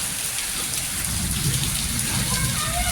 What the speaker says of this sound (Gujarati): ફૂલ વરસાદ ગાજે ને